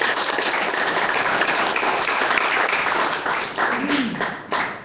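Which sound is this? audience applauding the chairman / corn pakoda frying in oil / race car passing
audience applauding the chairman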